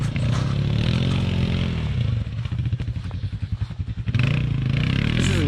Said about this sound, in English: That's Camden on the Polaris 570, and Ben is up front with the King Quad